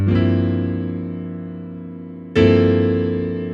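A rich piano chord voiced with added 11th and 13th is struck and rings, then struck again a couple of seconds later, sustaining with a lush, full voicing.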